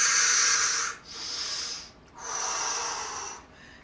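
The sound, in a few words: deep breathing during chair yoga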